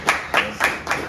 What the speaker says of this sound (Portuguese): Uma salva de palmas aí para o Izan